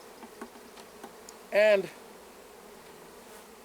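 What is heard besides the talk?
many honey bees buzzing in a hive box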